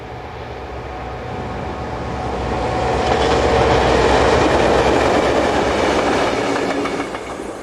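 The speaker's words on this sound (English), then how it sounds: "Here we see 2 Class 1800 diesels, numbers 1815 and 1820, heading south on the main through lines towards Thionville in France." A pair of Class 1800 diesel locomotives pass on a main through line, their rumble building to a loud peak with rhythmic wheel clatter over rail joints, then easing slightly as they move on.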